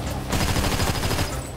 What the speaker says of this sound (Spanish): Yo disparo primero y después apunto.